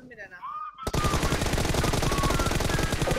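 Rapid automatic gunfire in PUBG Mobile breaks in abruptly after a brief voice and continues as a loud, sustained burst of closely spaced shots.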